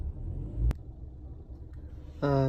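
A Chevrolet Gentra car's engine rumbles at idle with a sharp click partway through, then the revs rise abruptly as the accelerator is pressed, ending in a loud, steady whine.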